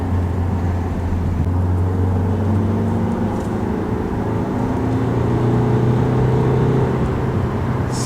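A Citroën DS5 car accelerating on the road, its engine note climbing steadily in pitch under a constant wash of road and wind noise, heard from inside the cabin.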